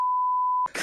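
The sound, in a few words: censor beep sound effect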